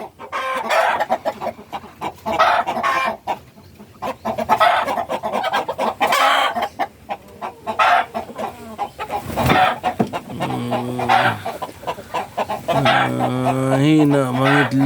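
Ten-month-old Rhode Island chickens clucking close by, with repeated loud clucks and cackles throughout and a rooster-like crow toward the end.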